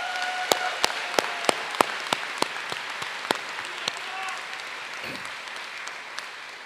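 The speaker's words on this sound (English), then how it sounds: "let's give Scott another round of applause." Applause at a graduation ceremony of a trades apprentice school, starting as sparse, distinct hand claps that thin out and fade into a soft, lingering patter.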